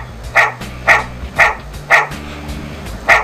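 A dog sound effect in an RPG Maker game barks five times in an even rhythm, about every half second, each bark short and clear with no talking.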